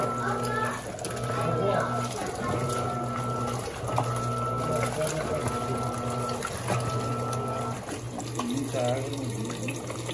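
An Electrolux Premium Care 17 kg impeller washing machine refills with water, a steady running-water hiss under mechanical hum and clicks, with people talking over it.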